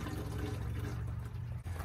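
Water pouring in a steady stream into the radiator coolant reservoir of a Ford RV motorhome during an antifreeze drain and refill, a short, quiet, continuous gurgling splash.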